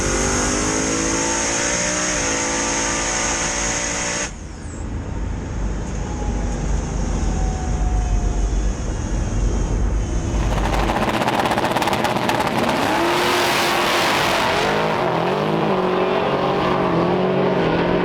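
A Mustang drag car with a 416 cubic inch LS engine at a no-prep drag race in Alabama: a steady engine tone first, then a loud, raw roar as it races away.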